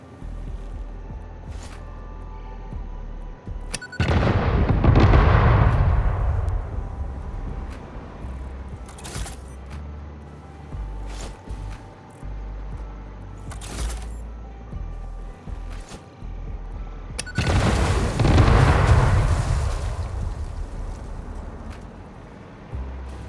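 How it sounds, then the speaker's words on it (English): In Satisfactory, a cluster of bombs detonates all at once rather than in sequence, twice: a sudden heavy boom that rumbles and decays over a few seconds, then a second similar blast later, between stretches of low hum. "The cluster bombs don't blow up in order. They all detonate at the time."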